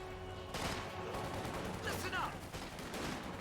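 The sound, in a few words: gunfire in video game Company of Heroes 2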